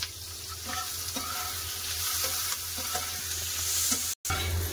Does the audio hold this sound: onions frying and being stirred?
yes